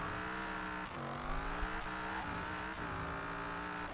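Racing car engine in Forza Horizon 4, revving steadily and loud with rising and falling pitch through gear shifts, with light tire noise, no talking.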